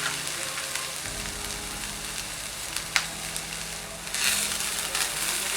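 Vegetables are sautéed in a pan for homemade roti tacos, making a steady close sizzle with occasional stirring scrapes and a brief sharp clatter, growing louder and hissier near the end, with no speech.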